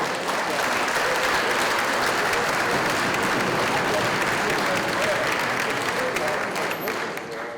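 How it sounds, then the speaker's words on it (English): Audience applause fills a middle school concert hall, dense and sustained at an even loudness for the whole stretch, with no talk over it. "Can we give them a nice round of applause?"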